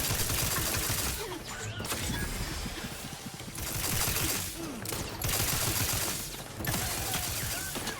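Rapid bursts of automatic turret gunfire in The Outer Worlds 2, a sci-fi video game, rattling loudly in repeated volleys separated by short pauses and overlaid with mechanical clanks.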